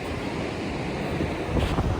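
Surf and gusting wind roll together at Horsefall Beach on the Oregon coast, a loud, dense wash with wind buffeting the microphone and swells surging near the end.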